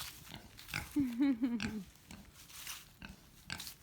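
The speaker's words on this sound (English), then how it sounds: "The pigs are in the pole barn. Hi, piggy pigs." Pigs kept in a pole barn grunt and oink close by, a short run of rough snorting grunts with scattered snuffles and rustling around them, fairly loud.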